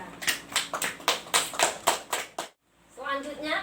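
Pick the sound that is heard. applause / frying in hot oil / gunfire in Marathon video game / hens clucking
applause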